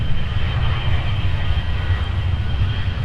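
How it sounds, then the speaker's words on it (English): An airliner departing MSP airport rumbles with a heavy, continuous low engine roar that stays steady and loud throughout, with no voices. "it looks like we got one more departure here"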